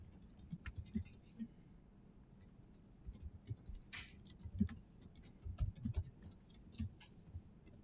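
Typing on a computer keyboard while working in Excel gives soft, scattered key clicks in irregular bursts, faint and close, with a quiet voice talking over them.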